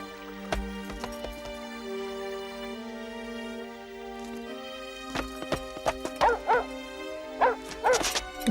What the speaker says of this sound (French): Tu es le chien de Cendrillon?